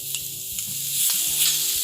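Shrimp seasoned with cayenne and paprika sizzle in a hot pan, a bright continuous hiss broken by a few clanking knocks and scrapes from turning them, nearby, with no voices.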